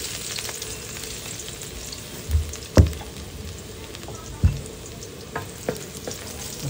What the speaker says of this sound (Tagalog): Maggigisa lang tayo ng bawang.